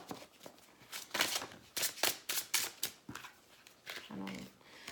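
A deck of tarot cards is shuffled in quick bursts of crisp riffling and slapping, close and moderately loud, with brief pauses between bursts.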